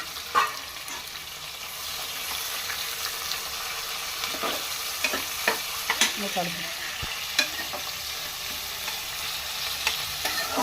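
Onions frying in a pan until golden while making mutton paya curry, a steady close sizzle with occasional stirring scrapes and clicks.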